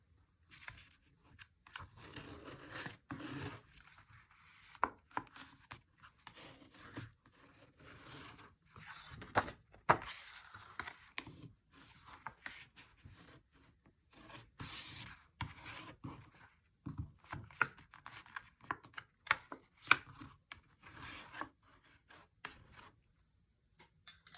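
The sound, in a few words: bone folder creasing paper lines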